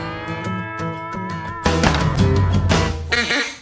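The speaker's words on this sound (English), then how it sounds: "Duck call." A duck call blown in a series of close, loud nasal quacks, with a short rhythmic sequence followed by a longer, louder, raspier run of calls.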